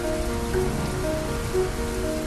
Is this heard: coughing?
no